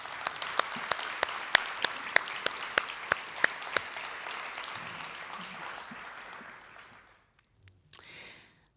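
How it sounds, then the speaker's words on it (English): Audience applause at a children's advocacy center event, steady crowd clapping with a few sharp, rhythmic louder claps near the front, fading out after about seven seconds, followed by quiet and a brief soft sound. "I'd like to give them a round of applause"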